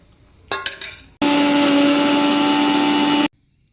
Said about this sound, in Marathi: हा कोथिंबीर सुद्धा मी भांड्यामध्ये बारीक करून घेत आहे